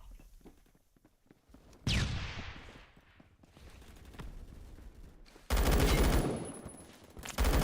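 Gunfire rings out in a first-person pirate game, with rapid bursts of loud shots in the middle and end of the stretch and quieter footsteps and movement between them.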